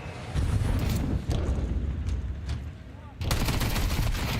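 Pistol gunfire during the pistol round of a Counter-Strike 2 grand final match, rapid bursts of shots over a dense game background, with a pause midway before firing resumes.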